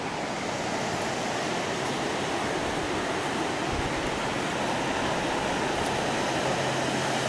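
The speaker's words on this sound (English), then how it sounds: "The roar of the waters pleasing to the ear." Roaring waters of the River Earn in Scotland, a steady broad rushing wash that stays loud and unbroken throughout, with no talk over it.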